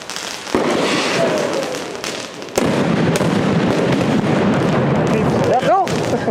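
Neo Rockets fireworks being set off, with a loud sustained crackle and roar of bursts filling the clip, a sharp bang near the start and another midway, and a whistling tone near the end.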